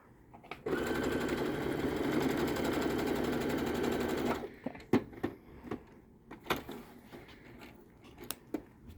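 A sewing machine stitching about an inch along a costume garment seam: a steady, close mechanical whir for several seconds, then it stops, followed by scattered handling clicks and fabric rustles.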